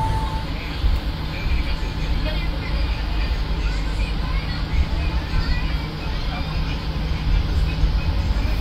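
Interior of the Gaya Baru Malam Selatan passenger train running between Sragen and Solo, a steady loud rumble and rattle of the carriage with faint background chatter.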